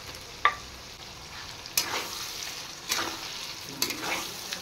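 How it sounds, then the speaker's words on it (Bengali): Cumin and ginger paste dropped into ridge gourd and potato frying in a pan, giving a steady sizzle with several bursts of louder crackle as it is stirred, close up and without voices. "এবার দিয়ে দেব পেস্ট করে রাখা জিরে আর আদা।"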